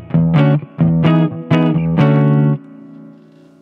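Electric guitar played through a Harley Benton HB-20R amplifier with the reverb turned down and the middle control maxed: four loud, separate strummed chords in a steady rhythm, the last one left to ring and fade.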